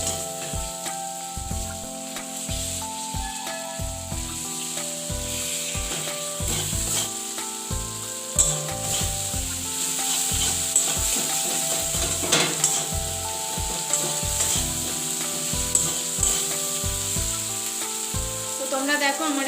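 Spices sizzle and fry in oil in a pan while being stirred for a Bengali bhola fish curry, with a steady close hiss and repeated scraping stir strokes throughout, no talking.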